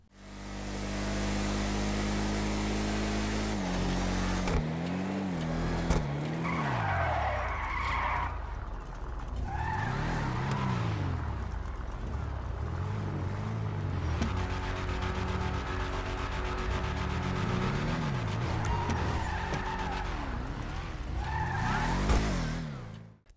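Engine roar and tire skids from a GTA V car race between a Bravado Gauntlet Classic and a DeClassic Yosemite, a loud continuous rev with rising and falling gear sweeps and repeated screeches, no talk.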